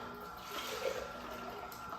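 Clear grape juice runs out of the spout of a juicer with a quiet, steady trickle that swells slightly midway, close and faint, with no talking.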